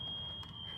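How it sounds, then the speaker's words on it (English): Fire alarm sounding in a house, heard as a steady high electronic tone running faintly in the background throughout, with low room noise beneath it. "That's the fire alarm going off"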